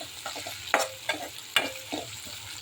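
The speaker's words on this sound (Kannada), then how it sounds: "ಅದನ್ನು ಸ್ವಲ್ಪ ಫ್ರೈ ಮಾಡ್ಕೊಳ್ಳಿ." Curry leaves, onion, mustard seeds and homemade dried red chili powder frying in oil, with a close crackling sizzle broken by several sharp scraping stirs of a spoon in the pan, no speech.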